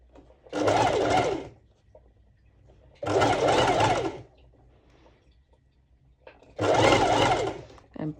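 Sewing machine stitching fabric for a DIY cropped top with a heart cut-out, running in three loud, steady bursts of about a second each with quiet pauses between.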